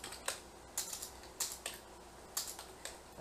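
Typing on a computer keyboard, quick bursts of close key clicks in an irregular rhythm with short pauses between them, quiet and alone.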